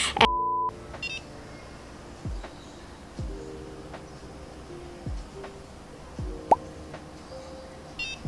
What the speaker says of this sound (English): once you turn the Nuface on, it will beep every like 5 seconds